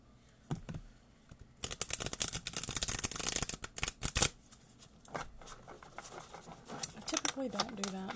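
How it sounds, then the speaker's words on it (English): A brand-new, limited-edition deck of oracle cards gets a vigorous shuffle up close, with dense bursts of riffling and snapping card edges that ease into softer handling toward the end. "let me just give these one really good shuffle"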